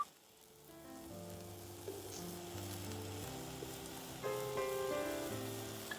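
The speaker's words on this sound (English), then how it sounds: "right here I'm just dry roasting the garlic and lemongrass. No oil. It's on high heat." Garlic and lemongrass dry roasting in a pan over high heat with no oil, giving a steady close crackling sizzle with scraping stirs throughout and no talking.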